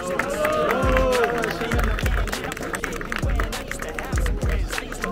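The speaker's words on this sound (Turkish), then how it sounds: "Ve şampiyon alkışlarınızla Esen Cıvlan." A crowd applauding a mountain race champion at an outdoor awards ceremony, with scattered clapping and crowd noise under loud amplified music with a heavy, repeating beat and some voices.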